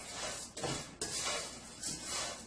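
Whisk scraping and clinking against a metal pot of vermicelli over low heat, a steady rhythmic metallic stirring with a few sharper taps, close and alone.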